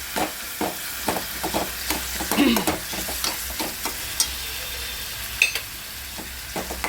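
Ingredients for a rajma curry roast in a pan, giving a steady sizzling hiss broken by intermittent scraping stirs, close and moderately loud, with no talking.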